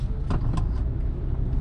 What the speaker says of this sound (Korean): 뒤에 차가 계속 쫓아오죠